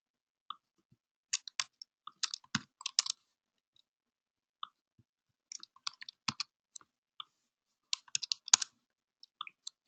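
Computer keyboard typing during a coding demo, heard as three quick bursts of light, close clicking keystrokes separated by short pauses, with no voice over them.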